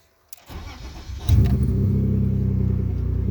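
A BMW E30 fitted with an S50 engine, showing 132,000 miles, cranks briefly, catches and settles into a loud, steady running note heard up close.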